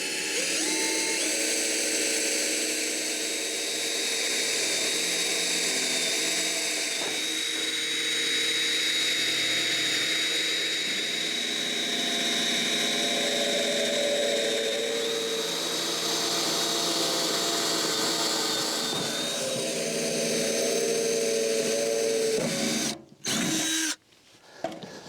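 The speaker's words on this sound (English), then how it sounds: "Now we can get the drill and drill over the holes." A power drill bores pilot holes in wood for a mobile pasture shelter build, a loud, sustained whining motor drone with slight pitch shifts that runs for over twenty seconds, then cuts out in a few short stops near the end.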